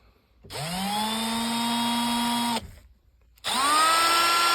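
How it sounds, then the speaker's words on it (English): A power drill whirs steadily for about two seconds, spins down, then starts up again after a short pause, loud and close, spinning a taped engine valve from a BMW N54 cylinder head. "I taped it and set it in the drill."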